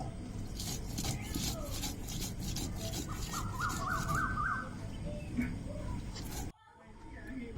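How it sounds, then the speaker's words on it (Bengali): Onions and garlic ground together into a paste on a grinding stone in a village kitchen, a steady rasping rub that runs continuously and close, with background sirens and a short pause near the end. "পেঁয়াজগুলো আর রসুন একসঙ্গে বেটে নেব"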